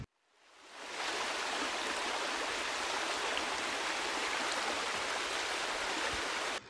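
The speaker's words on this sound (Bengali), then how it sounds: "ভালো করে কষিয়ে নিয়ে দিয়ে দিচ্ছি পরিমাণ মতো জল।" Water poured into a pan of Bengali thin rui fish curry with vegetables, a steady, loud rushing hiss that swells in over the first second and runs on evenly with no talk.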